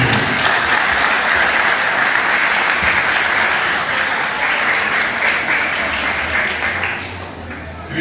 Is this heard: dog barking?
no